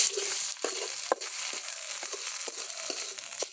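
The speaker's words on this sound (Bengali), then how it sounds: "তো আদা রসুন বাটা দিয়ে আর একটু আমি ভেজে নেব" Ginger garlic paste frying in a pan for a home-style chicken curry, a steady close sizzle with brief stirring scrapes and clinks throughout.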